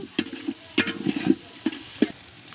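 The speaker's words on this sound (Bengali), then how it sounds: "এখন আমরা টমেটো সস দিচ্ছি সামান্য একটু টমেটো সস ইউজ করেছি আমরা এখন ভালো মতো মিক্সড করে নিচ্ছি" Tomato sauce being stirred and mixed into food in a pan over a village clay stove, with repeated scraping and knocking strokes of a utensil, close and fairly loud, with no talking.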